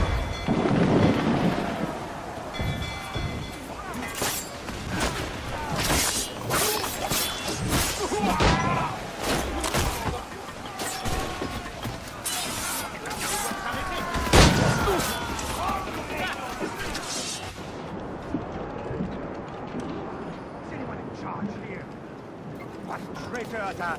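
A broadside of ship cannons in the naval game Assassin's Creed: Freedom Cry, heavy booms and crashing impacts rolling one after another over roaring, storm-like noise, with voices shouting amid the barrage.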